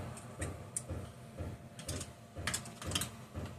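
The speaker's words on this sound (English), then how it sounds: "let's try a shallow socket" A ratchet wrench fitted with a shallow socket clicks in quick, regular bursts, close by and fairly quiet, during reassembly work on a Homelite XL12 chainsaw.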